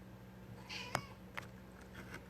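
A pet cat gives a couple of short, faint meows with a small tap in between, heard over a quiet room hum.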